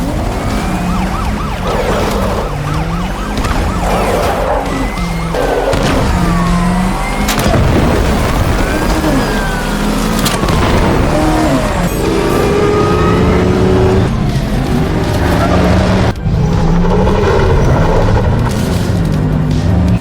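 Batmobile engine in the video game Batman: Arkham Knight, a loud, heavy rumble that revs and surges continuously, with booming bursts and rising whines throughout.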